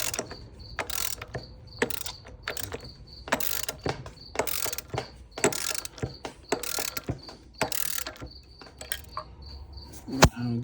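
A valve spring compressor is ratcheted down on the Hamilton 103-pound valve springs of a 6.7 Cummins engine in a 2007 Ram, giving close, sharp repeated clicks in quick bursts with short pauses and no talking.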